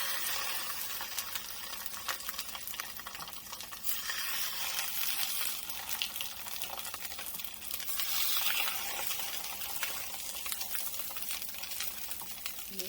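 Salmon cooks in a pan on a stove with a soft, continuous sizzle and crackle. The sound is faint and fairly even, with small bursts of spitting, and no one speaks.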